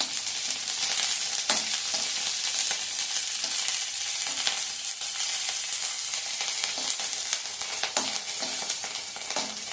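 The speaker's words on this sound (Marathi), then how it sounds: "आता कढईत हे जे तेल शिल्लक आहे ह्याच तेलामध्ये मी 6 ते 7 हिरव्या मिरच्या घालणार आहे आणि ते छान परतून घ्यायचे" Six or seven green chillies fry in leftover oil in a kadhai, producing a bright, continuous hissing sizzle up close with occasional sharper pops and a few stirring scrapes, no voices.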